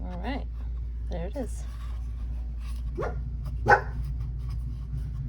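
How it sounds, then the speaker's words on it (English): A dog barks several times in short yelping bursts nearby while a person speaks over it, followed by a sharper, louder yelp near the end. "Sorry, that's my dog"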